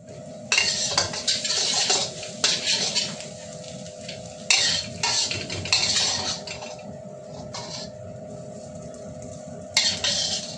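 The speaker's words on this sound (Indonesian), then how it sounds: "Ini aku tumis-tumis dulu bahan-bahan keringnya." A metal utensil scrapes and clinks repeatedly against a wok as dry ingredients for nasi goreng are stir-fried, with a low background sizzle and steady close kitchen clatter.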